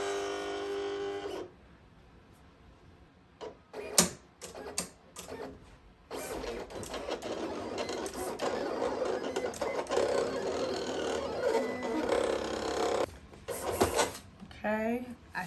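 A 15-inch vinyl cutter cuts metallic heat transfer vinyl, giving a sustained mechanical whir with blade-carriage movement and clicks, and a person talks at points.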